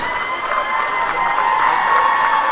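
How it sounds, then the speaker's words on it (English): A crowd at a high school basketball game cheers and applauds continuously, a steady roar of clapping and shouting from a packed gym, without any speech over it. "As the crowd erupts, as you can hear"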